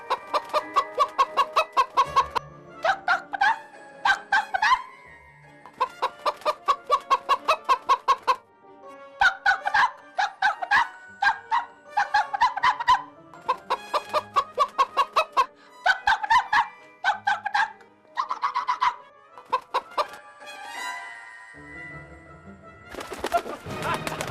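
Several chickens cluck and squawk in repeated bursts nearby, with a rooster-like call mixed in and short pauses between flurries.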